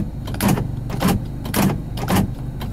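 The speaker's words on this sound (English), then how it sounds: "Auto door locks." Power door locks on a Volvo Bertone 262C coupé actuate in a run of four quick mechanical thunks, evenly spaced about half a second apart, close and fairly loud.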